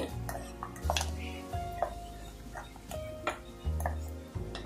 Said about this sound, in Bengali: আমি চামচ দিয়ে একটু নেড়ে চেড়ে নিচ্ছি